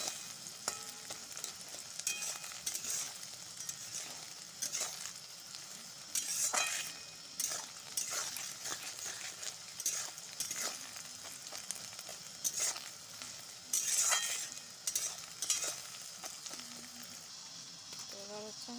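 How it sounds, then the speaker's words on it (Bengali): A spatula scrapes and stirs scrambled bhujia in a frying pan, with an irregular series of metallic scrapes and clinks over a faint, steady sizzle, moderately close, with a few light taps against the pan. "খুন্তি দিয়ে একটু নেড়ে দিচ্ছি যাতে ভালো করে ভুজিয়াটা তৈরি হয়"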